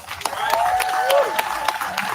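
Audience applause at a graduation event amid protests, a steady wash of crowd clapping with scattered sharper claps, cheering voices rising over it, fairly loud and continuous throughout.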